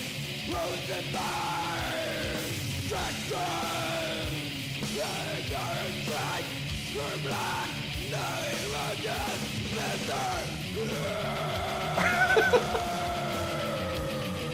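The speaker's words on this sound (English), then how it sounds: "It's pretty good death metal." Heavy, distorted death metal plays throughout with harsh screamed vocals, loud and dense, building slightly toward the end.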